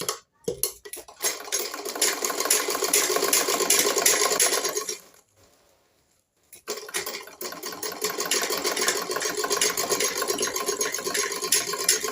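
A sewing machine stitches a lined blouse sleeve in long, continuous runs with a rapid, close rattling rhythm, stopping briefly for a quiet pause before starting again.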